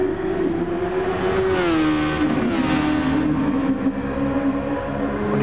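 A Super Formula race car in Gran Turismo Sport, its high-pitched engine whining steadily near the microphone, dipping briefly as it shifts and then climbing again at sustained high revs.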